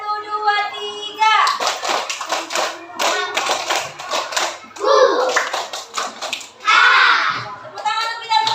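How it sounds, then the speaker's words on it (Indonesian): A class of children claps together in short rhythmic bursts between spoken and chanted phrases, the claps close and crisp, mixed with kids' voices. "Tepuk tangan untuk kita semua."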